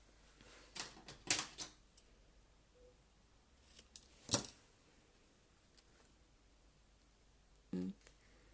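Scissors trim the edge of a handmade card in a few quick, crisp snips and clicks spread over several seconds, close up and fairly quiet, with pauses between cuts.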